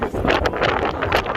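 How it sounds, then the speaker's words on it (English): Strong gusting wind buffets the microphone outdoors on a cold day in Las Vegas, a steady broadband roar with rising and falling surges throughout, close and fairly loud, with no talk. "That's how windy it is."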